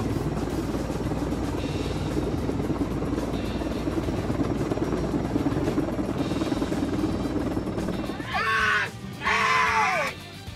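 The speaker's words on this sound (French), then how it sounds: "L'hélicoptère a eu du mal à transporter une énorme unité de climatisation." A helicopter straining to lift and carry a huge air conditioning unit, its rotor drone steady and loud throughout, with rising whining, scraping tones bursting out near the end.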